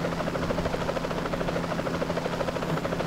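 Helicopters fly over the city in a GTA São Paulo mod, giving a steady, continuous rotor buzz and drone that fills the scene throughout, with no talking.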